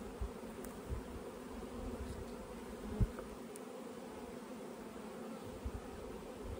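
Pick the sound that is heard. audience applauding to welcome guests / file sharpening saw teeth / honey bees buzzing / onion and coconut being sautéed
honey bees buzzing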